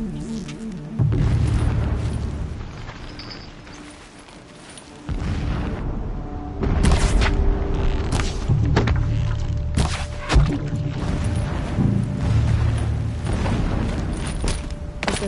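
Repeated booming blasts from a mining operation in the video game Horizon Zero Dawn, loud and fairly close, several heavy thuds and explosions across the stretch amid dense game ambience, with no talk.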